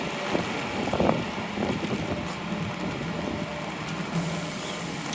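Gusty wind on Barrington Street near Scotia Square in downtown Halifax during heavy rain buffets the microphone with a broad, rumbling roar that swells and eases without a break, and no one speaks.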